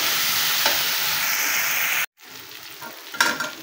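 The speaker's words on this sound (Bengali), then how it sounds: "মাংসগুলো এখন তেলে একটু ভেজে নিচ্ছি" Broiler chicken pieces fry in oil with a loud, steady sizzle, which cuts off briefly and then resumes, with a burst of spatter and stirring near the end.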